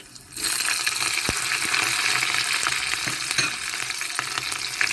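Cumin seeds and red and green chillies sizzle in hot oil for a tadka, a loud, steady crackling fry with occasional sharp pops and no talking.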